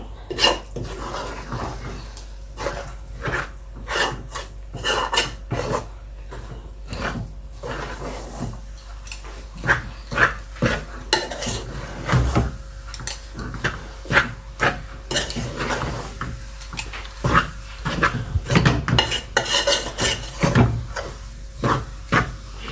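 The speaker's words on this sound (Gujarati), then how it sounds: "બરાબર મિક્સ કરવાનો" Karasla filling of gram and millet flour is stirred and mixed in a pan, giving steady rhythmic scrapes and clinks of a spoon against metal over a faint hum, with no talking.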